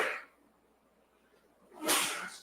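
A single sharp sneeze bursts out near the end after a quiet stretch, with a softer breathy sound at the very start.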